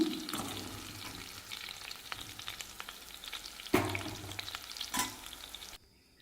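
Plantain pieces frying in hot oil make a close, crackling sizzle with sharp pops and stirring scrapes, swelling in bursts before cutting off abruptly near the end.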